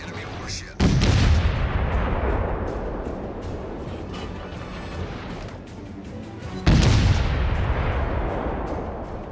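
Two heavy naval artillery salvos from warships in World of Warships, each a sudden loud boom that rolls into a long rumbling decay, the second arriving about six seconds after the first.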